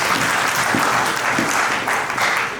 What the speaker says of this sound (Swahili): Hebu tujipigie makofi na tumpatie.